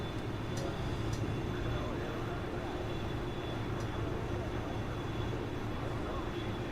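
Su-27SM jet engine in a flight game, holding a descending hover at part throttle: a steady, continuous broadband roar with a faint high whine, unchanging in level throughout, with a few faint clicks.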